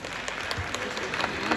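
Applause from an audience at a church youth conference panel discussion, a brief burst of steady clapping at moderate distance that fills the whole moment without talk.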